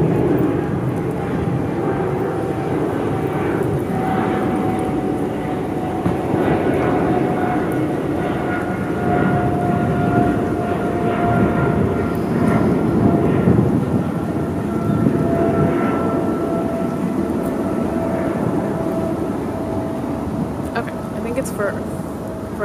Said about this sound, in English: Hold on, there's an airplane.